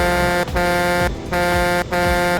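A truck horn honks in the Car Crushers 2 video game, loud, harmonically rich blasts repeated in quick succession with brief gaps between, no voices over it.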